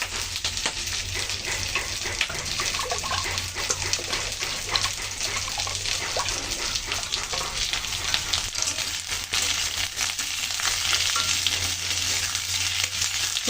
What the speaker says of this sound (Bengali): পেঁপে দিয়ে কাঁচা লঙ্কা দিয়ে মোটামুটি ভালো করে ভেজে নিলাম